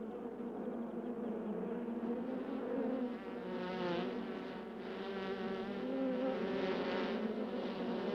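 Honeybees in a hive just after the queen is removed, a dense, continuous buzzing drone that swells and wavers in pitch and intensity, loud and close, with no voices.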